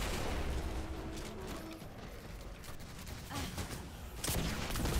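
Weapon fire from the video game Destiny 2 crackles in a dense, continuous barrage of shots and blasts, fairly faint overall, with a louder burst near the end.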